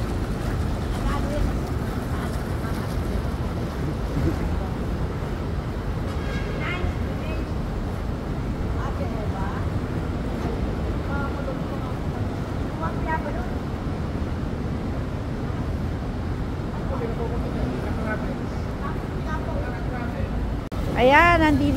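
Jacuzzi water jets churn strongly in a pool, giving a steady, loud rushing and bubbling roar, with people talking faintly over it.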